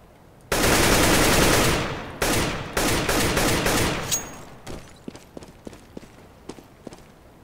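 A long burst of automatic rifle fire from CS:GO on the Dust 2 map blasts loud and close, then breaks into shorter bursts and scattered single shots that fade into quieter clicks and footsteps.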